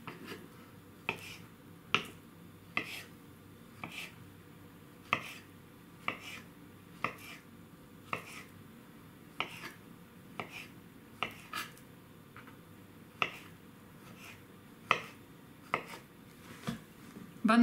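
A knife slicing a banana diagonally on a cutting board, a series of sharp, regular taps roughly once per second over a quiet background, close and clear with no speech.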